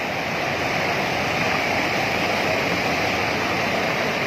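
Monsoon floodwater surges over a submerged bridge and spills onto a bypass road in a flooded town. It makes a dense, steady, loud rushing roar throughout, close by, with no voices.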